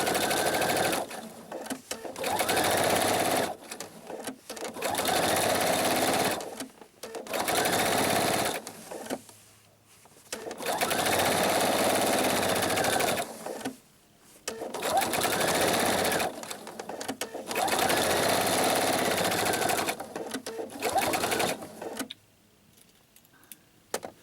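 A sewing machine runs in repeated bursts of fast stitching along the edge of a pillow with faux cording, each loud run broken by short pauses and a near-silent stretch at the end.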